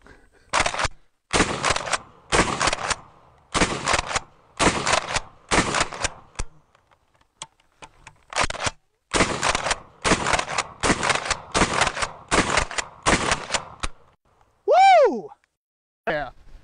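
Rapid gunfire from a shotgun loaded with 1-ounce slugs, fired in quick strings of sharp, loud reports with a brief pause in the middle, then a rising whistle-like tone near the end.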